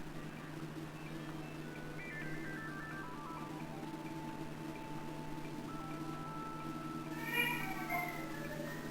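A whistling fungi creature in the video game Home Safety Hotline gives off a thin, descending whistle-like tone over a steady low hum, followed by a brief chirpy, warbling trill near the end.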